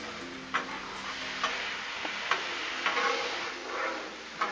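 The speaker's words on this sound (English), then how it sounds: "Give it a good stir." Corn frying on a Blackstone griddle while being stirred, a steady sizzle punctuated by a regular series of light scraping clicks from the utensil.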